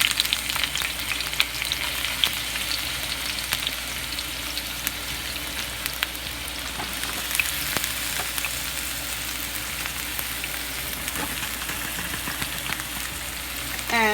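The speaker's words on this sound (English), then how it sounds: "I already throw the oil in the pot. So I'm gonna just add the ingredients into the frying pan." Colorful stir-fry ingredients sizzle and fry steadily in hot oil in a frying pan, a constant crackling hiss with scattered pops and occasional stirring clatter, close and unbroken.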